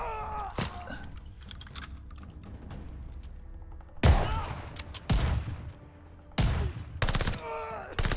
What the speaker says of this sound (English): The range of shotguns in this game.